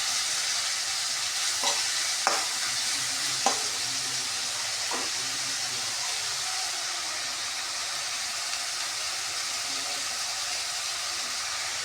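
Ginger and garlic fry in a pan with a bright, steady hiss that fills the whole stretch, broken by a few sharp stirring clinks early on, close and without talking.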